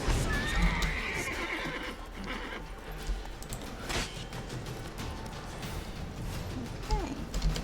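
Horse neighing in the video game Witcher 3, a whinny near the start over hoof clip-clop and game sounds, with someone talking faintly in the background.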